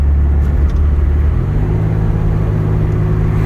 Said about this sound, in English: So we're going to go ahead and accelerate here.